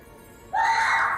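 A stock scream sound effect from the video game Contradiction bursts in suddenly and loudly, holding as one sustained shrill cry after a quiet lead-in.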